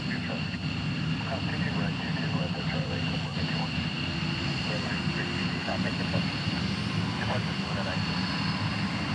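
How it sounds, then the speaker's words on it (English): F-15C fighter jets of Louisiana's 159th unit arrive on the Reef Runway in Hawaii, a steady distant jet engine roar and whine lasting throughout, with people talking over it. "these are all Cs, F-15 Cs from the 159th, the Bayou Militia in Louisiana"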